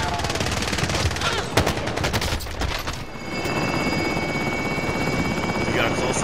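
Call of Duty Modern Warfare combat with a helicopter's steady rotor roar and a rapid burst of machine-gun fire early on, then the aircraft drone continuing alone.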